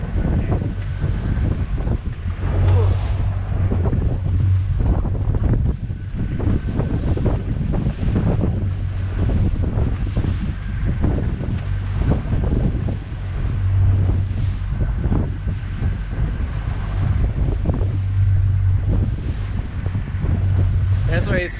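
16-foot boat pounding through strong waves on Lake Michigan, with a steady roar of wind and water and repeated low thumps as the hull hits the swells. Wind buffets the microphone and a voice speaks at times.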